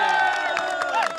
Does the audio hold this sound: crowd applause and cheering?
yes